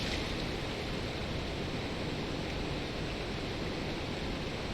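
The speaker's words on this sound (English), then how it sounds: "This waterfall is probably not helping at all." A waterfall in the Dark Souls video game roars as a steady, dense wash of rushing water, loud and unbroken throughout.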